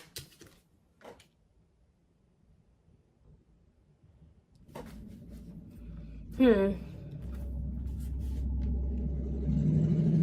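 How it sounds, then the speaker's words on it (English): A loud truck passes nearby, its low rumble swelling from about five seconds in and holding to the end, with a brief higher whine partway through; a voice speaks faintly over it at the start. "Sorry guys, loud truck."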